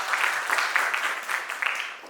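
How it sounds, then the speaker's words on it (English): Audience applause at a sustainable supply chains business event, a moderate round of clapping from a seated crowd, steady and somewhat distant, lasting a couple of seconds. "a warm round of applause for Kuljit in his new position"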